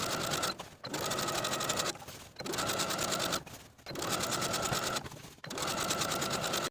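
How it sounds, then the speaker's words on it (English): A sewing machine edge stitching a rolled skirt hem: loud, rapid, steady mechanical whirring and chattering in four sustained runs, each separated by a brief pause, close up with no talk. "we can secure the hem by edge stitching close to that inner fold all the way around"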